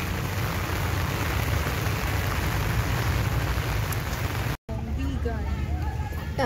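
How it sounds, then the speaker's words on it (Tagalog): Steady, dense rain pours onto a flooded street in Baguio with a constant loud hiss for several seconds, then breaks off abruptly, and voices follow over the continuing rainfall. "Dito. Umuulan na po."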